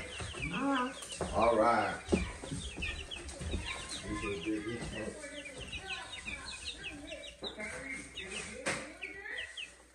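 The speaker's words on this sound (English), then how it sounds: "Check out our baby chicks" Baby chicks cheep and cluck in a brooder, a busy chorus of high peeping and chirps throughout, with someone speaking briefly over them near the start.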